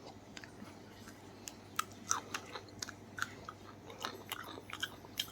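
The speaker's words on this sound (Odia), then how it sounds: "ଡୁଡୁଲ ଦେଖନ୍ତୁ ଝୁଡ଼ଙ୍ଗ ଖାଇବା ଧରିଛି" A dog named Doodle chews and eats cowpea beans up close, with small irregular crunchy bites and clicks repeating over a low steady background hum; no one speaks.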